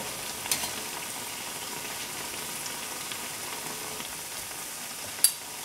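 Sweet plantains fry in a pan with a soft, steady sizzle and occasional faint clicks as the pieces are turned, quiet and close with no talking.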